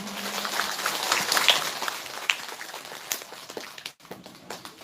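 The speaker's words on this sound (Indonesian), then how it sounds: "Tepuk tangan heula kanggo sadayana." An audience at a Karang Taruna anniversary gathering with a sermon breaks into moderately faint applause, scattered claps thinning out and briefly dropping away before a few more hands continue.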